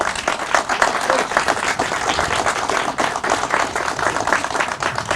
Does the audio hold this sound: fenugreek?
no